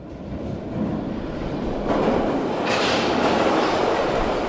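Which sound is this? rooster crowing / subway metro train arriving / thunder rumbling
subway metro train arriving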